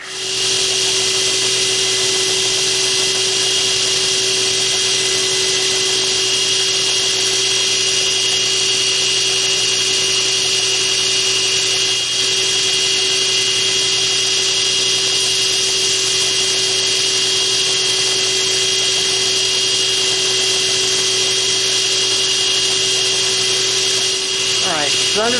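Steady, loud whine of a power sander grinding a ring knife blade on 80-grit abrasive, running continuously and close for the whole stretch with no pauses.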